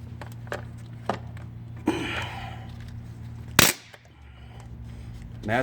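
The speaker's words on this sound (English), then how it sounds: "That's the sound of the filter cracking." Transmission filter on a 2004 Chevy Trailblazer being tugged out by hand: a few small cracks and clicks, then one sharp loud snap partway through, close up over a steady low hum.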